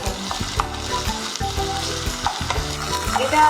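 Paneer frying lightly in a pan, a continuous close sizzle with stirring scrapes breaking in at irregular intervals.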